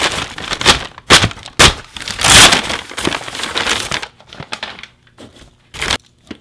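Someone handles and tears open a large envelope at close range, producing loud bursts of crinkling and crackling paper that grow sparser and quieter toward the end.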